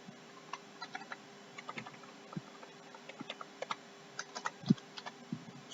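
Irregular bursts of keystrokes on a computer keyboard while database records are entered, quiet and close, with short pauses between clusters of taps and no talking.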